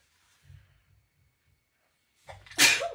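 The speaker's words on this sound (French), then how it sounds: "je vais éternuer" A single sharp sneeze near the microphone, preceded by a few faint soft sounds and quiet.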